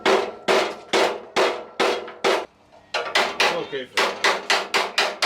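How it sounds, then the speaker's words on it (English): Steel hammer blows on Mazda Miata body panels, knocking them apart to break seam sealant between spot-welded sheet metal: a steady series of loud, close, ringing metallic strikes, about two per second, with one short pause midway and a brief spoken word. "Right now we're just trying to get all the seam sealant off just so we can separate the two panels."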